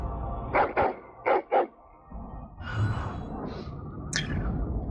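A dog in the video game Dragon Age: Origins gives four short barks in two quick pairs, followed by quieter huffing and whining sounds.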